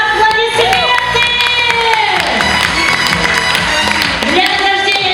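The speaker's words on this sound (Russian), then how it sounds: "Аплодисменты!" A festival gala concert audience applauds loudly and steadily, with cheering and children's shouts over a lingering musical tone from the stage.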